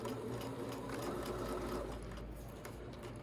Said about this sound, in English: I'm lining the right edge of my fabric with the right edge of my presser foot. Don't forget to backstitch.